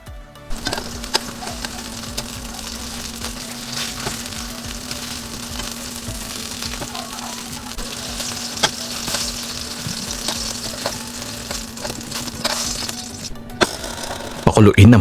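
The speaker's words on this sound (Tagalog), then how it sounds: "Iprito ang talong." Eggplant fries in oil in a pan, a dense, continuous sizzle with small crackles and clicks, close and steady for a long stretch, with a low hum underneath and a short rustle at the end.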